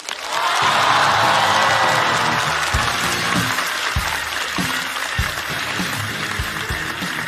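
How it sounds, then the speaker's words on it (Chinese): A theatre audience at a stand-up comedy show breaks into loud, sustained applause that swells at the start and holds steady, with a few low thumps underneath. "让我们掌声有请钟明。"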